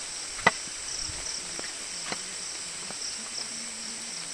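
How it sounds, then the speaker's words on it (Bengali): Crickets chirp in a forest on Parasnath Hill, a steady high insect drone running throughout at moderate level, broken by a few sharp faint clicks and soft distant calls. "এত সুন্দর একটা ঝিঝি পোকার শব্দ আসছে"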